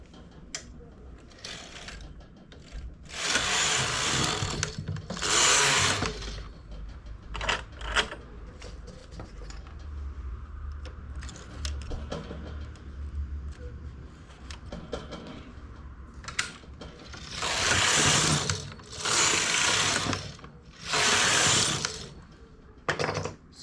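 A knitting machine carriage is pushed back and forth across the needle bed while a cardigan is machine-knitted. Brief whirring, rattling passes come in bursts over a quiet mechanical background, near and moderate in volume.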